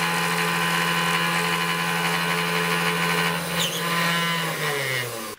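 A DIY mini CNC machine cuts aluminium with a 3mm bit in a very shallow 0.1mm pass, giving a steady, loud high-pitched spindle whine with slight chatter, alone, before the pitch drops as the spindle winds down.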